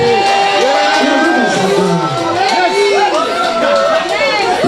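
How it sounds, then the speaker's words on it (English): A large crowd of Manchester United supporters at a gathering roars, cheers and claps in a loud, continuous wash of voices and applause with no break for the full few seconds. "Most of the people clapping are Manchester United supporters."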